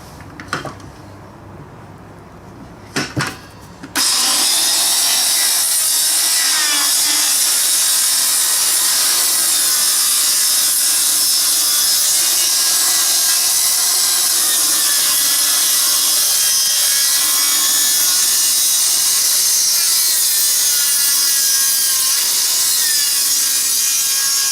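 A hand saw cuts wood for an outdoor bench rebuild with loud, continuous rasping strokes up close that begin after a few quiet seconds with some faint knocks, then run steadily to the end.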